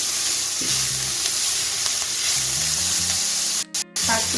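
Cauliflower leaf greens sizzle and fry in a pan while being stirred constantly, a steady close crackling hiss broken by soft scraping stirs and a brief pause near the end.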